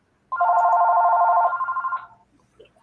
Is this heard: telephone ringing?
yes